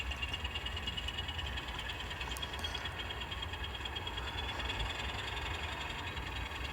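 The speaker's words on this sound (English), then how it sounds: "So we're pushing the train south" A steady low rumble of a model train being pushed along track, with a constant mechanical hum and faint high whine throughout.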